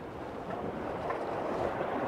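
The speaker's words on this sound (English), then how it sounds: "That wind's getting up" Wind gusts buffet across open sea during a fishing session, a soft, rushing blustery noise that swells slightly over a couple of seconds, faint and without speech.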